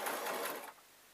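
A sewing machine stitches the head seam of a unicorn soft toy, running steadily for a moment before stopping and leaving quiet.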